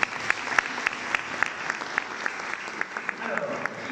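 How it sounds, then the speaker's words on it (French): An audience applauds at a business awards ceremony for small and medium companies, a steady wash of clapping with regular sharper claps standing out throughout, moderately loud and close, without talk. "Applaudissements déjà."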